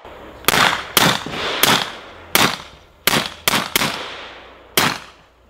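An AK-pattern rifle chambered in 5.45 with a muzzle brake fires about nine loud, sharp shots in an irregular rhythm, each crack ringing out with a short decaying tail outdoors at a shooting meet.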